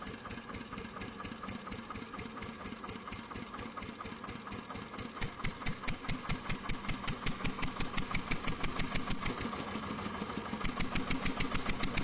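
A vintage Deutz MAH 716 engine runs steadily with a rhythmic, regular firing beat that grows louder and sharper partway through, heard alone and close.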